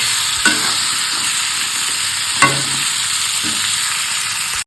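Large cut pieces of chicken sizzle steadily in a hot pan, a loud continuous fry broken by a few brief scraping stirs of the spoon.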